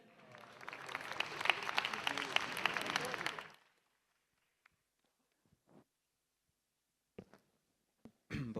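Audience applause welcoming the poet Umair Najmi on stage at an overseas poetry convention, a loud dense burst of clapping for about three seconds that cuts off into near silence with a few faint stray sounds.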